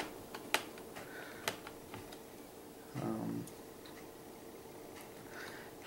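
Screws come out of a Dell Vostro 15 laptop in a quiet room: faint, sparse clicks and small metallic ticks from the tool, with a short scraping rattle in the middle.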